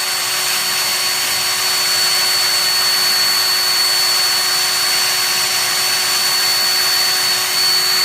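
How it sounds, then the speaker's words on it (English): A drill-driven buffing wheel polishes a motorcycle swingarm from a Honda VFR, producing a loud, steady whirring whine with a constant hum, close and unbroken, with no talk. "now again, this is just the buffing wheel."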